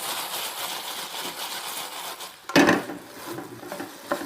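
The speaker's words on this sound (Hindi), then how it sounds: "ये हमारी 5 मिनट के बाद भिंडी फ्राई हो गई है" Okra (bhindi) frying in a pan, a soft crackling sizzle with a sharp utensil clatter and stirring scrape in the middle, nearby.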